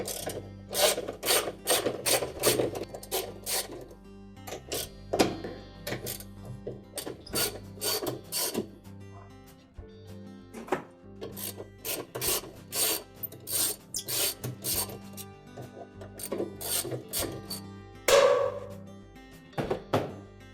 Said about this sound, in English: Once we've accessed those, we'll remove the 4 bolts.